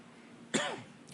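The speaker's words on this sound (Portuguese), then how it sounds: "eu estou com uma tosse muito chatinha" A single sharp cough from a person with a nagging cough, close and clear, followed by a short trailing rasp and then quiet.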